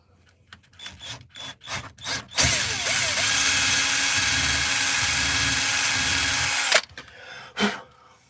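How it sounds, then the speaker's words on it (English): A power drill bores a 6 mm hole into carving wood, running steadily for about four seconds, loud and close, between short bursts of quieter knocks and handling. "no, I don't want to drill all the way through."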